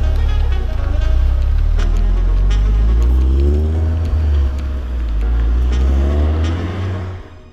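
A Ford Focus RS engine accelerates hard, a loud, close, throaty roar whose pitch climbs steadily through the revs, eases briefly, then builds again before dropping away at the end.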